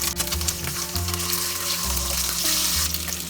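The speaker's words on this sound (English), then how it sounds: "We will fry the egg first. Fry them on both sides till they turn golden." Eggs fry in hot oil in a pan, a steady loud sizzle that fills the space throughout, with no speech over it.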